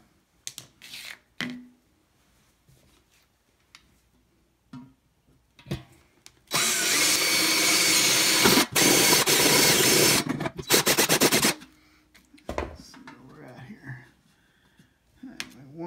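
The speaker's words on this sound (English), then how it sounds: "I'm going to drill in there as well" A power drill whirs loudly for about five seconds, with brief quiet pauses, scattered handling clicks and sparse talk before and after.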